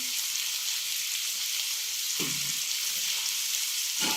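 Onions fry in a pan for spicy chicken macaroni, a steady close crackling sizzle broken by two short scraping stirs of a spoon, with no speech.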